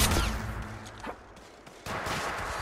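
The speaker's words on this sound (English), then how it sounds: "They're shooting at me." Bursts of rapid gunfire ring out in an Apex Legends firefight, loud dense volleys opening and closing the stretch with a quieter gap of scattered shots between.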